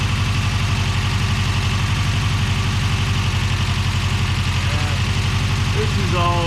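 A Subaru BRAT, freshly engine-swapped and fitted with a new carburetor setup, idles steadily up close with a deep, even rumble and constant vibration throughout.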